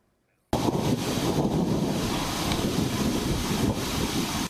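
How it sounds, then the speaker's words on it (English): Thunder rumbles over Burbank during an unusual Southern California storm, a loud, sustained roar after a moment of silence, broad and continuous with wind-like noise throughout and no voices. "That is thunder you hear in Burbank"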